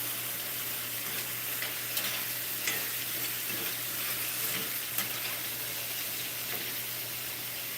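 Peeled, deveined shrimp (frozen) stir-fry in a pan with a quiet, constant sizzle, broken by a few light clicks of a stirring utensil.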